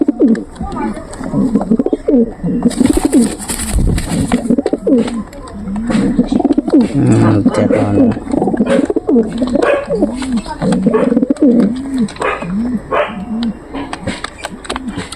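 Pet pigeons, a paired white Lakka (fantail) male and smaller hen, coo repeatedly in close, rolling bursts throughout, with a brief bright noise burst early on and background chatter mixed in.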